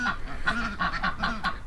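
Geese and ducks in a pen honk and quack in quick, repeated bursts, several nasal calls close by, with no talk.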